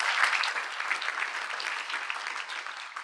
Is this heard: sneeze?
no